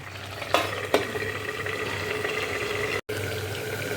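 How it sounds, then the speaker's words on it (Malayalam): Egg curry being stirred in a pan, a steady close scraping and bubbling sizzle with a couple of sharper knocks near the start and a brief cutout toward the end, no voices. "ഇതിൽ നല്ലോണം ഇളക്കി കൊടുക്കുക"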